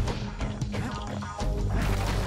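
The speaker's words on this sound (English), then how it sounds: "It's pretty cool, just smashing stuff." Objects being smashed in Bastion as the Kid rages through scenery: a quick cluster of crashing, thwacking hits over a continuous game soundscape, with no talking.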